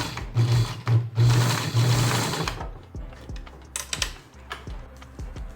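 A sewing machine stitches a homemade surgical mask in loud bursts of rapid needle chatter, then stops and starts in short runs with mechanical clicks and knocks between them, and no voices.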